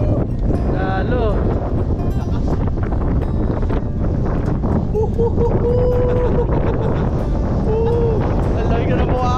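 Strong wind buffets the microphone with loud, constant rumbling roar on freezing Mt. Timbac in Atok, Benguet, while voices talk underneath and a few brief tonal calls rise through.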